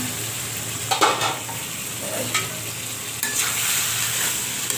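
Curry is stir-fried (koshano) in a pan with a constant close sizzle, punctuated by several scraping strokes of a spatula against the pan as it is turned over.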